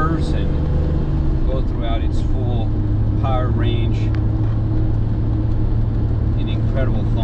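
A 1988 BMW M5 E28 engine drones steadily while the car is being driven, a continuous low rumble that runs the whole way under a voice.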